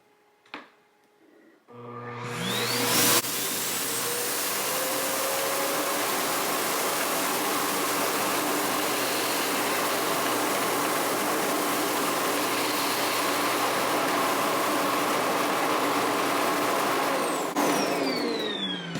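A Samsung Jet Bot robot vacuum empties itself into its self-empty bin with a loud, steady suction roar. The roar starts abruptly after a short quiet moment, holds without a break for about fifteen seconds, then cuts off.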